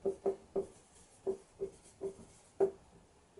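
Chalk or marker writing on a board, a series of short, quiet, close strokes in an irregular rhythm, each a brief scratchy tap.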